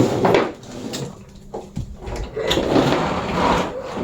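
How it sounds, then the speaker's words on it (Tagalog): A clothes dryer being pushed and shoved into place in a home laundry area, giving irregular scraping and bumping knocks with a few sharp thuds, close and moderately loud. "pinapasok na po ni Mama yung dryer"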